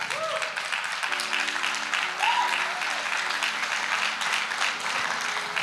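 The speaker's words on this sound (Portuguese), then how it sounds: "você pode aplaudir Jesus?" A church congregation applauds in a sustained, even wash of clapping, moderately loud and continuous, with faint voices and low tones underneath.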